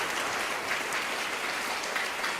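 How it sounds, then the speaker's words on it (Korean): During a lecture on success, an audience gives a steady round of applause, a dense, even patter of many hands clapping at moderate loudness throughout. "박수도 쳐주시고"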